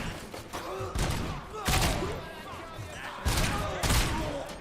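Gunshots in a RoboCop video game: loud, repeated bursts of gunfire in several clusters across the clip, hard and close, with a player's voice talking underneath.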